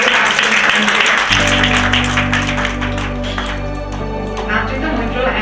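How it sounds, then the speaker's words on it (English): Audience applause at the SJWPBD 2023 award giving ceremony, a loud, dense wash of clapping that continues steadily as music begins underneath and carries on to the end. "Please give huge round of applause to all the"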